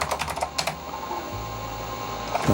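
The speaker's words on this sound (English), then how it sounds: "I'm gonna pull the keyboard a little closer to me so I can type properly" Quick clacking keystrokes on a Sanyo MBC-16 Plus computer keyboard come in short bursts, followed by a low hum and another cluster of key presses at the end, close and clear.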